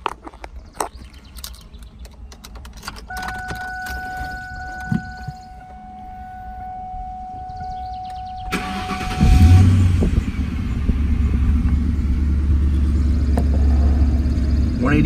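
Ford Mustang GT engine starts up after a few seconds of cabin clicks and a rising electronic chime, catching with a loud burst and then settling into a deep, steady idle.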